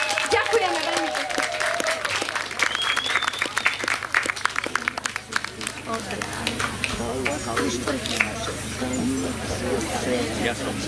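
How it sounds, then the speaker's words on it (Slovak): An audience applauds at an outdoor village festival celebration, with sustained clapping throughout while an announcer speaks over it. "Veľký potlesk ešte raz pre tohoto človeka."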